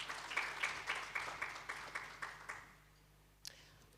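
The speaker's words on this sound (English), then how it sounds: "So a round of applause for the farmers." An audience at a policy dialogue on agri-food systems claps for the farmers, with sparse, rhythmic claps fading into quiet after a couple of seconds, then a single faint knock.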